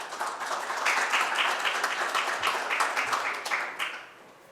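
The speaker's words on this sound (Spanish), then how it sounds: "Un aplauso" Applause from a conference audience at a mining technology and research event in Peru, a dense steady patter of many hands for about four seconds that fades out at the end, with no talk over it.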